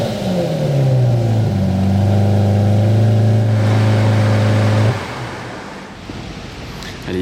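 Lamborghini Reventon Roadster engine revving loud and close, pitch climbing then holding a sustained high roar for several seconds before cutting off abruptly into a lower, rumbling idle.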